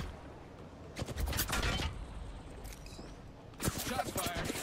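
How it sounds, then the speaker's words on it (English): Bursts of gunfire in an Apex Legends match with Mirage, two rapid volleys of sharp shots separated by a quieter stretch of game ambience and clicks. "Shots fired, and they're hitting me."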